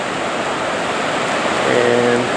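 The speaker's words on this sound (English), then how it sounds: "down here in the Genesee River. Water gets really, really turbid and angry." The Genesee River running high, turbid and fast after snowmelt and rain: a loud, continuous roar of rushing water that swells slightly toward the end, with a faint tonal hum rising near the close.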